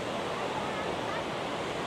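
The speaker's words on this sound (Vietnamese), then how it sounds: "Kìa thác nước đổ xuống này." Waterfall pouring down at a scenic falls in Dak Lak, Vietnam, a steady broadband roar of rushing water close by with no pauses, a continuous dense wash throughout.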